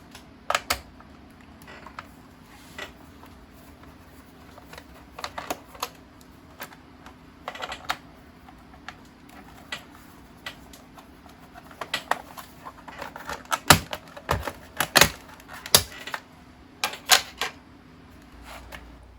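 Small screws being backed out of a plastic cover over an SSD on an EVGA X58 SLI LE motherboard, heard as a series of sharp, close clicks and taps that grow busier toward the end, with no talking.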